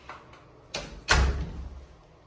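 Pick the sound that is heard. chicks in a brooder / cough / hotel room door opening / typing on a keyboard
hotel room door opening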